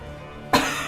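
One sharp, loud cough bursts out after a quiet pause, close to the microphone, from a person with a frog in the throat.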